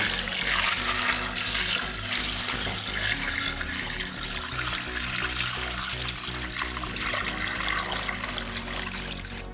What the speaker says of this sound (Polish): I teraz nalewam do tego garnka zimnej wody